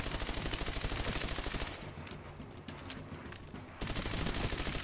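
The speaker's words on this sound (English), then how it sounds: "You can see him dumping a whole mag into a horde." Sustained automatic gunfire pours into a zombie horde in World at War Zombies, a dense rapid rattle that dips briefly in the middle before resuming at full loudness.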